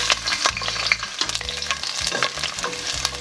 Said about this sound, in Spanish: Cuando la manteca ya se encuentre caliente, añadimos los ajos